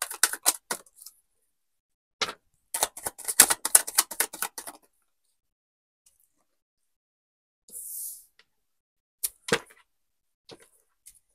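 Tarot cards shuffled by hand, a run of quick crisp riffling clicks and flutters in bursts, separated by silent gaps, with a brief soft rustle later on.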